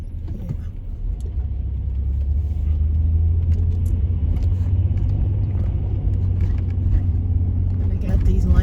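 Low steady rumble of a car in city traffic, heard from inside the cabin, constant and moderately loud with faint clicks and rattles over it.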